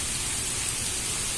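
Heavy rain pouring steadily, a dense even hiss of water with no pauses, alone and fairly close.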